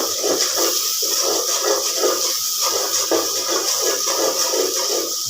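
Washed dried fish goes into hot oil in a home kitchen and sizzles with a steady, close, bubbling hiss that crackles throughout.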